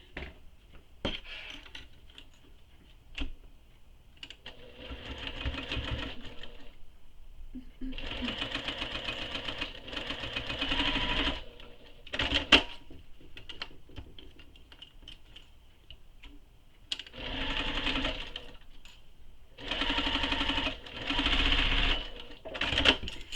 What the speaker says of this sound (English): now we're going to sew this with the seam allowance given in the pattern